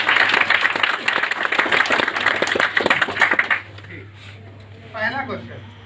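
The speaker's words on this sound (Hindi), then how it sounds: "तो ताली बजा दी, वरना जमाइए।" Audience members at a Hindi-language motivational talk break into sustained, dense applause for several seconds, which fades out as a voice resumes speaking.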